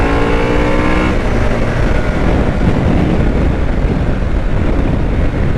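A 2021 Harley-Davidson Sportster S 1250cc motorcycle rides in sport mode, its engine a loud, steady, close roar with a brief rising rev at the start and wind rush throughout.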